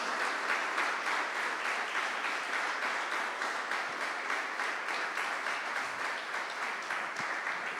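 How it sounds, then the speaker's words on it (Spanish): Sustained congregational clapping fills a church during a year-end sermon, a steady even wash of many hands at moderate volume, continuing without a break. "Denle un aplauso al Señor"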